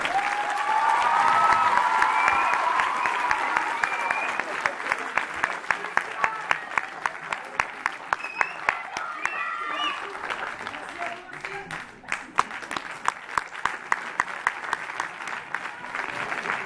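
An audience at a drumming concert applauds steadily and loudly, a dense wash of clapping that breaks toward the end into scattered, rhythmic claps, with a voice heard over the start.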